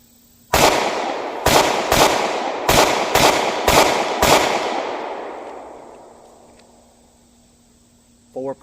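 Seven shots from a Taurus G2S pistol at a shooting range, sharp loud cracks in a quick irregular string with ringing decay between, followed by a faint electronic beep at the end.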